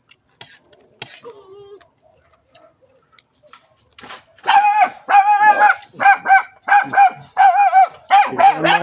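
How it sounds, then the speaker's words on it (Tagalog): Several dogs bark at night, a burst of sharp, loud barks repeating in a steady rhythm for several seconds after a quieter stretch with faint noises. "may ingay mga aso namin dito pag may dumadaan. Yun, tumatahol."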